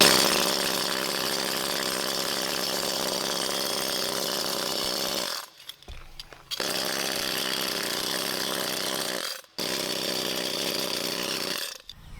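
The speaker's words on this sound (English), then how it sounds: "This tool is called a crud castrator." A pneumatic crud castrator, a wire wheel tool driven by air pressure, scours rust in a loud, steady buzzing whir that runs alone for several seconds. It cuts out briefly twice, then starts again.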